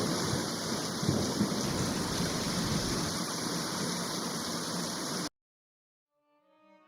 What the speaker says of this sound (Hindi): आसमान में काले बादल छाए, तेज बिजली चमकी और बारिश से फसल का नुकसान हो गया